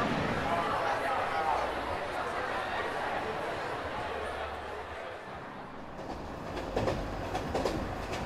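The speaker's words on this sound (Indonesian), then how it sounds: "Saya berada di stasiun Lviv karena sebentar lagi kereta akan berangkat menuju Kiev." Broad steady rumble of Lviv railway station with a train nearby about to depart, continuous noise throughout and a few louder clanks and bursts near the end.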